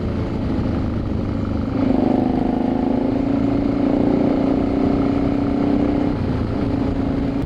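A motorcycle cruises at about 60 with a steady engine drone and wind rush. The engine note rises slightly and holds a sustained tone through the middle before settling.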